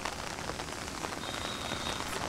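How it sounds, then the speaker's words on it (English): Heavy tropical rain pours down steadily and loud, a dense, continuous hiss of drops hitting surfaces close around, with no break or voice. "this rain is really picking up"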